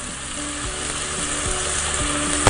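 Turmeric and cumin toasting in a hot pan give a steady, close sizzle and crackle with a few soft stirring knocks, no voices over it.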